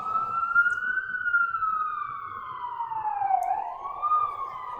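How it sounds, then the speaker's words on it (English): An ambulance siren wails outside with a steady, slowly gliding tone that dips and rises again, moderately distant and sustained throughout. "Or no, that's an ambulance."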